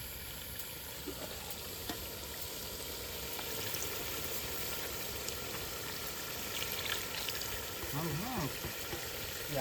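Chilli dropped into a hot pan sizzles steadily at low level, a faint continuous frying hiss with occasional stirring clicks and a brief voice near the end, while paneer and cashew dishes are cooked.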